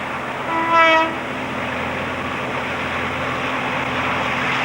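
A train horn gives one short blast, then a long freight train of about 34 wagons, around 1,000 tons, hauling logs, rolls by with a steady, low, grinding rumble.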